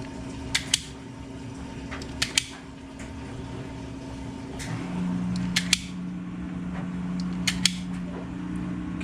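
Wire stripper snipping and stripping ignition coil plug wires on a 2007 VW Rabbit, a few sharp close clicks and snaps spaced out over a steady low hum.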